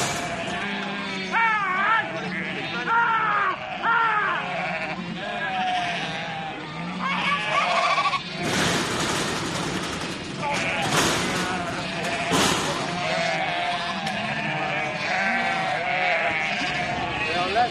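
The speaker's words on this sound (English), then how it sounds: "this herd of woolly bleaters being rounded up for a trim" A herd of sheep bleats repeatedly while being rounded up for shearing, overlapping cries rising and falling, with a loud rush of movement and handling noise in the middle.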